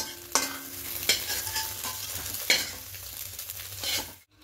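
Scrambled egg bhujiya sizzles in a wok as a spatula stirs and lifts it, with several sharp scraping clacks over a steady frying hiss.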